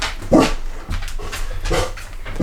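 A dog, close and loud, barks once and then gives a run of whines and whimpers at night, calming briefly between outbursts.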